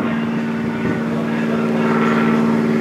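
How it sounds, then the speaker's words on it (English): A tow plane's propeller engine drones steadily and evenly throughout, a sustained tonal hum with no breaks, heard from a moderate distance. "There's the tow plane."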